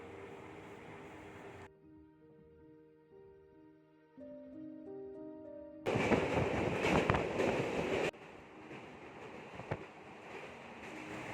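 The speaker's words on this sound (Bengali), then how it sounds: "ট্রেন ছেড়ে দিল" A passenger train runs through rural Bengal near the Damodar river, giving a low steady rumble heard from inside a carriage, with a louder, rougher stretch of rattling and clatter partway through.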